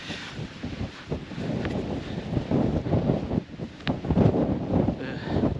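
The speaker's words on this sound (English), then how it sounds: "it's a bit windy" Gusty wind buffets the microphone on an exposed hillside in the Shropshire Hills, rumbling and rising in uneven surges, loud and close with no other clear sounds.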